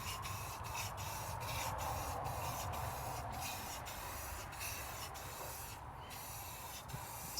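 Krylon spray paint hissing from an aerosol can onto parts of a 1950 Cadillac hearse under restoration, a steady broadband spray held across the whole span with brief regular pauses, close and moderately loud.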